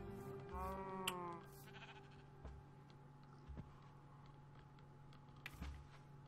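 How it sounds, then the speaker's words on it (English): Sheep in the video game Minecraft give a wavering bleat near the start, followed by a few faint clicks and soft game sounds over a low background hum. "A sheep."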